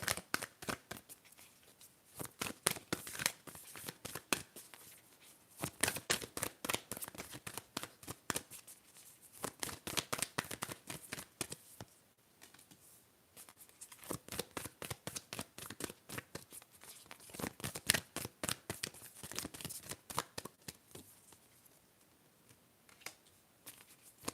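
Moonology oracle cards shuffled by hand in a quiet room, a long run of crisp riffling card flutters and soft slaps coming in close bursts with short pauses between.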